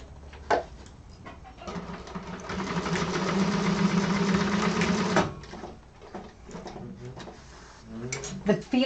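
A domestic sewing machine running steadily while quilting, a continuous mechanical whir that builds and holds for a few seconds before stopping, with someone talking around it.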